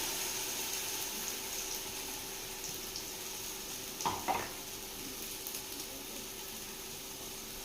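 Onions with ginger-garlic paste sauté in a pan for mutton biryani, a soft steady sizzle with a brief clatter of stirring midway, faint and without voices.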